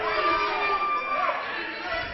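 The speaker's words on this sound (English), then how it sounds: "Listen to the crowd." A wrestling arena crowd in the Twin Cities roars in a steady, dense wash of cheering and shouting, with individual voices rising out of the constant mass of noise.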